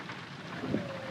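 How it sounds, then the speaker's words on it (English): Heavy rain in Euro Truck Simulator 2 on a dark, gloomy arrival at a ferry port, a faint steady patter and hiss with a soft rumble swelling briefly near the end, no voices. "arriving in the ferry port of Beirut and it being really rainy and dark and gloomy."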